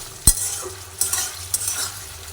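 A spoon stirs curry in a pan just after water is added, with a sharp scrape near the start and a few softer scrapes and splashes over a faint simmer.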